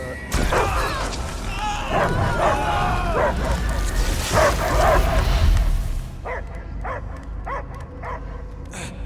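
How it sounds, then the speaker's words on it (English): Dog barking and whimpering in the Guardians of the Galaxy video game, with yips that come through under a loud bed of game sound, then clearer, separate bark-like calls toward the end. "I hear only barking."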